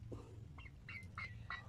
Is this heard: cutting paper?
no